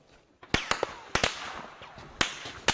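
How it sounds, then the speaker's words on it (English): Several sharp gunshots crack out at irregular intervals, some echoing, over a low outdoor background near the eastern Congolese city of Goma. "the sound of gunfire is heard near the eastern city of Goma."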